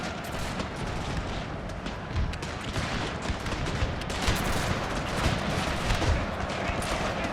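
Artillery fire from a 30 Years War battle in Total War, a dense roar of booms and gunfire rumbling continuously with intermittent louder blasts, heavy and sustained throughout.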